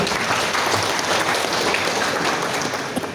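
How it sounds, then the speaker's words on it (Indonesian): Steady applause from an audience at an Indonesian community outreach gathering, a dense continuous patter of clapping hands filling the room at full volume for the whole stretch, with no speech over it. "Kita beri tepuk tangan untuk Pak Hafid."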